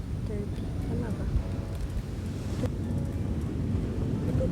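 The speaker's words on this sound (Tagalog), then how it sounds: "Mahangin kasi." Wind gusts buffet the microphone at Fulong Beach, a constant rushing roar with low rumble, while people talk in the background.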